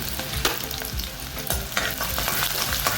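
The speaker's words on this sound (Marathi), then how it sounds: "इथे तेल गरम झाले आता आपण चिरलेला अद्रक टाकूया लसूण टाकूया हिरवी मिरची टाकूया" Chopped ginger, garlic and green chilli fry in hot oil for prawn chilli, a steady close sizzle with spatula stirs and scrapes recurring through the three seconds, no talking.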